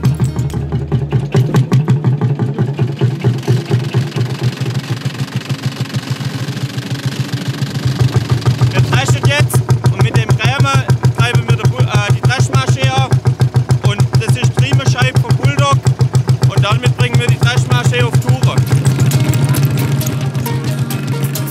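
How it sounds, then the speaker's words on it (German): A historic threshing machine runs while driven by a vintage Lanz tractor, the engine thumping in a fast, steady knocking rhythm with mechanical clatter layered on top, loud and close throughout. "historisches Zubehör wie diese Dreschmaschine, die immer noch einwandfrei funktioniert und wie damals vom Traktor angetrieben wird"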